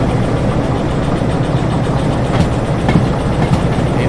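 A train rolls along the rails in the railway game Derail Valley, a steady broadband rumble with a low engine hum and faint rhythmic clicks, loud and continuous throughout with no talk.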